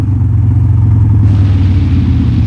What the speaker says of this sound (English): throttle up on your downshifts